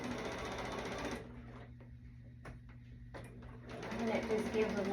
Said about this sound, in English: I think my machine is needing some oil here, guys. It lets me know by making this weird sound